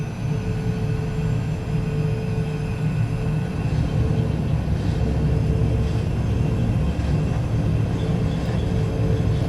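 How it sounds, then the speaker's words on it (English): Airbus A320 engines spooling to takeoff thrust in a flight simulator, a steady, loud low roar and rumble with faint whining tones, continuous throughout and without talk. "SRS auto thrust blue, and takeoff thrust is coming in"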